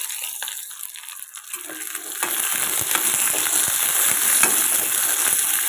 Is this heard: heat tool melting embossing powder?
no